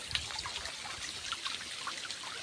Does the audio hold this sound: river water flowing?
yes